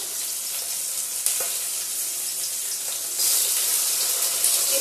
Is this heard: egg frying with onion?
yes